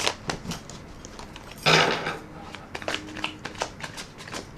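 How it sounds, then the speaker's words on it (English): Tarot cards riffle-shuffled once in a quick, crisp burst of flutter lasting about half a second, set among softer card handling clicks and taps, fairly close and with no talking. "I'm going to rifle them one more time"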